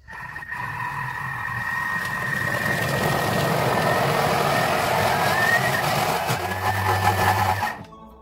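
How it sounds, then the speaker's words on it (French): A Thermomix TM6 blends soaked dates into paste at speed 8, a loud close motor whir with grinding that swells and holds for several seconds, then winds down and stops. "on va mixer le tout pendant une dizaine de secondes"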